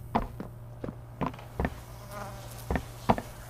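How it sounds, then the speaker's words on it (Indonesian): An insect buzz in the horror video game Poppy Playtime Chapter 3, likely a mosquito, comes as a faint, wavering drone. It sits alone with several short knocks and steps, over a steady low hum of game ambience. "Ada suara nyamuk."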